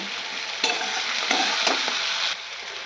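Onion, capsicum, cauliflower and peas fry in a pan with crushed black pepper, giving a continuous close sizzle broken by several scraping strokes of stirring.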